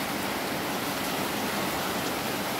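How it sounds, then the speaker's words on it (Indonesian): Steady rain pouring down around a house under construction at a transmigration settlement, a dense, even hiss with no breaks, close and fairly loud, with no voices. "Hujan lagi kawan-kawan."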